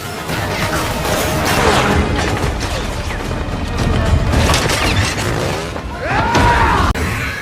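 Gunfire and crashing impacts from a shootout in the action film Fast & Furious 9, a dense, loud stretch of bangs, bursts and smashes layered over a continuous cinematic score.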